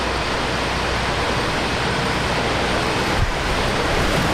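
Extremely strong cyclone wind roars steadily during Cyclone Alfred at Brisbane Airport, a loud, unbroken broadband rush like heavy surf, with a brief gusty dip near the end and no voices.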